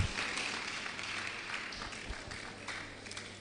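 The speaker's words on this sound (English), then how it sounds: "Please give them a round of applause." Faint applause from a school audience at a senatorial district quiz competition in Akwa Ibom, a steady distant patter of clapping with a low hum beneath.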